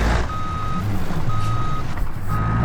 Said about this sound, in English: Reverse gear.